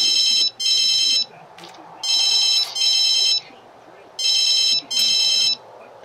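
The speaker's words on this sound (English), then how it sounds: "Oh, it's Shawnee that's calling" A cell phone rings in The Sims 3 video game with a bright electronic ringtone in three paired bursts, loud and repeating over quiet background game ambience.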